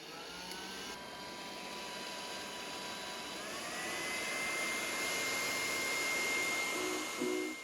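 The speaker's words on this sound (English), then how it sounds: "I may keep about 2 to 3 inches from the tip of the hair dryer from the cowl itself." Hair dryer blowing steadily at close range onto an outboard engine cowl to soften old decals, a continuous whooshing whir that grows slightly louder midway and holds alone without talk.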